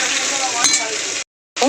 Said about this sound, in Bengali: তো টমেটো, কাঁচা লঙ্কা, রসুন, পেঁয়াজ এগুলো ভালো করে ভেজে নেব তেলের মধ্যে।